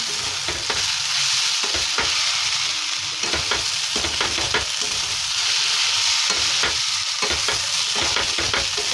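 Curry is stir-fried in a pan with a continuous sizzle, broken by repeated scraping strokes of a spoon against the pan.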